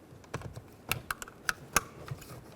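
Several sharp plastic clicks and snaps, irregularly spaced, close up with no talking, as a car door window switch on a 2004-2006 Scion xB is pressed and seated.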